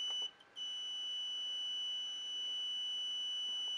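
A piezo buzzer driven by an Arduino sounds a steady, piercing 8000 Hz beep continuously, with a brief dip near the start, over faint background hiss.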